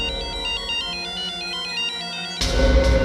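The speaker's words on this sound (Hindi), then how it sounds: "ये सेलफोन किसका बजा?" A cell phone plays a melodic ringtone as a repeating electronic tune, then a loud dramatic hit cuts in over it at the end.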